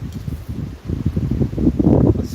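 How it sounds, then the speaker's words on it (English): Strong wind gusts buffet the open air beside a beehive during an inspection, a low, steady rumble of wind noise swelling louder toward the end, with no talk. "It's super windy, so I'm going to go in and out as soon as possible."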